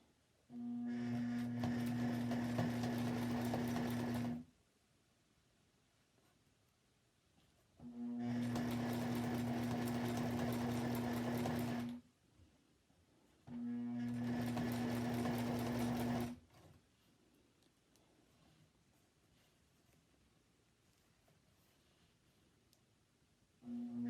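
A sewing machine stitches quilt appliqué in three steady runs of about four seconds each. Each run is a fast, even hum with a rapid needle rhythm, and quiet pauses separate the runs.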